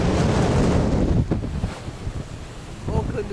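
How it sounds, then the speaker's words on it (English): Ocean swell and strong wind buffet a boat crossing the Gulf out from Auckland toward the Barrier, a continuous close rush of wind and surging water. "And the swell down here is getting more impressive."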